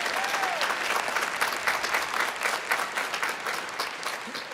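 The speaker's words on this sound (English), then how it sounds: "if we could give another round of applause to Nick and to Lauren for their wonderful speeches" A large crowd applauds student speakers at a high school commencement, dense and continuous clapping at a fairly loud level with a few individual claps standing out near the front.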